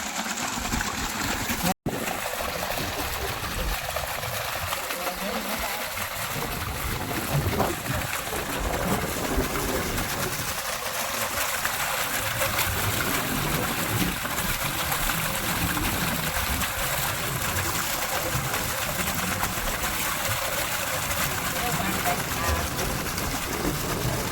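Steady running water splashes and gurgles throughout, pouring from a pipe at a farm, with occasional voices talking over it.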